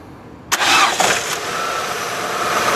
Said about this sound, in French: Maintenant, on va démarrer la voiture.